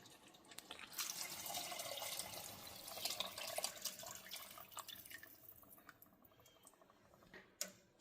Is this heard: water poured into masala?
yes